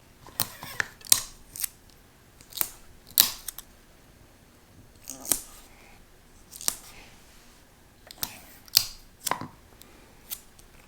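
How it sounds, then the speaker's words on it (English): Heat-resistant tape pulled off the roll and pressed down while preparing sublimation metal business cards: sharp, separate ripping and snapping bursts spaced a second or two apart, close up over a quiet room, with no speech. "I'm gonna take my heat resistant tape. I'm just gonna tape that down."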